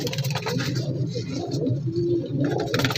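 Pigeons cooing at the Shahdara pigeon market in Lahore, several close, loud, throaty rolling coos overlapping one another in a busy flock.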